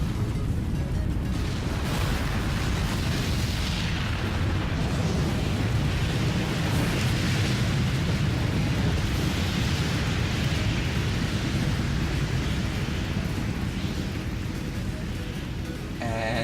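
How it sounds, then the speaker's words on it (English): A rocket blows up in the Ascension map of Black Ops 3 Zombies: a loud, dense, rumbling roar that holds steady and unbroken for the whole stretch, like continuous thunder. "once you shoot it, the rocket is actually going to explode"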